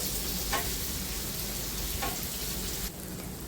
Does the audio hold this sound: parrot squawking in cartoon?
no